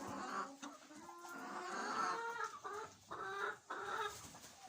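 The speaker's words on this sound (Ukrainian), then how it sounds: "І курочки ось гомонять." Hens in a henhouse on a frosty day cluck and chatter softly in uneven bursts, with a rooster-like call mixed in, faint and close.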